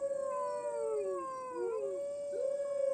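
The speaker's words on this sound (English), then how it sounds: "How do I still hear howling?" Wolves howl in an Assassin's Creed Valhalla game scene, several long, wavering howls rising and falling and overlapping one another, fairly faint and distant over a quiet background.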